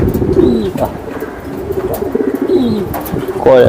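Racer pigeons at a pigeon farm give repeated soft, throaty coos close by, with a few brief higher calls in between.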